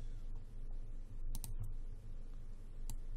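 Computer keyboard keys are pressed in a few quick, close clicks, including a short double tap, over a low steady background hum.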